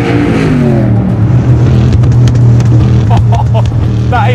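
Noble M600 650hp supercar engine revved hard in low gear while shooting flames, a loud continuous roar with rising and falling pitch across the whole stretch, close by.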